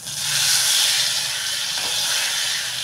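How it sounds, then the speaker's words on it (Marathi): Red chilies frying in oil in a pan, a close, loud, steady hissing sizzle that holds evenly throughout with no speech. "आता ही लाल मिरची चांगली परतून घेतली."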